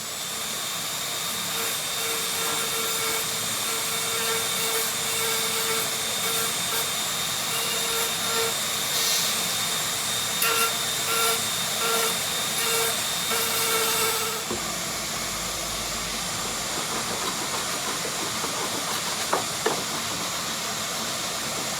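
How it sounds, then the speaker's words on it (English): A Dremel rotary tool grinding a small lip off a new aileron hinge for a Pilatus PC-6 Porter aircraft, a steady high whine with a faint tonal hum that cuts off partway, followed by quieter workshop noise and a couple of sharp clicks. "I've got to grind that little lip off to get my clearance"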